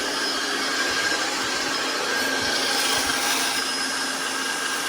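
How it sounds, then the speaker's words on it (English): A wet tile saw grinds steadily through kitchen backsplash tile in a garage, with a loud continuous whine and abrasive rasp throughout, no voices. "Using a wet saw."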